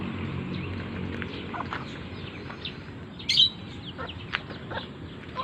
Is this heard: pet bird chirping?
yes